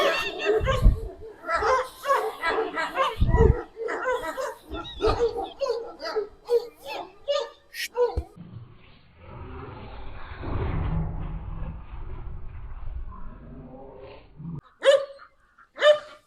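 Large, giant dogs at a kennel in Binə bark in loud, close bursts, with repeated deep barks early and a few later, mixed with people talking and a stretch of muffled rustling.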